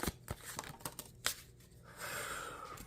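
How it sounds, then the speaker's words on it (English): A tarot card deck is shuffled by hand in a string of soft, quick riffling taps and flicks, close and quiet, followed by a steadier rustle. "That was a lot of cards, a lot of shuffling just to get here to this 9 of Pentacles."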